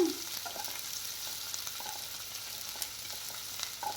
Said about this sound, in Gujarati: અને સાથે ડુંગળીને પણ આપણે એડ કરી દઈએ આનો થોડુંક જ સાતળવાનું છે અને ગેસને ફૂલ રાખવાનો છે